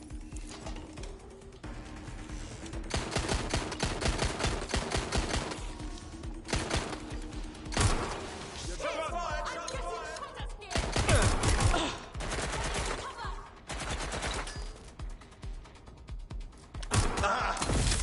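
Bursts of automatic gunfire from a shooting suspect in Watch Dogs Legion, dense rapid volleys repeating in clusters across the scene with short pauses between them, loud and close.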